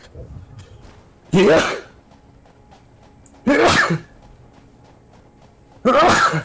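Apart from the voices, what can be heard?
sneeze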